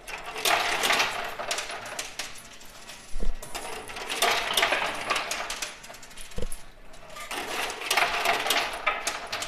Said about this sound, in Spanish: Vamos a echarle a ver si nos sigue tirando monedas.